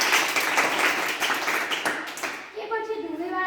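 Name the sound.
applause filling a hall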